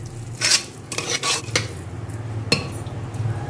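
Spoon scraping and clinking against a pot or bowl while a cup of curd is stirred into rice for curd rice, with a few sharper metallic knocks over a steady low kitchen hum.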